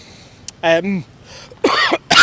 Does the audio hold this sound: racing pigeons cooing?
no